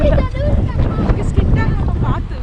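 Strong wind during a 2019 snowstorm roars steadily across the microphone, a dense, blustery rumble that never lets up, with voices faintly audible beneath it.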